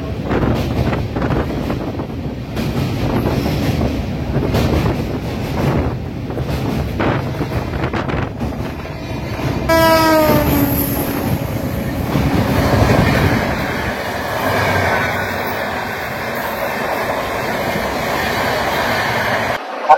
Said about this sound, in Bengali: এতক্ষণ পর আমাদের ট্রেন ভালোই স্পিড নিয়ে নিয়েছে।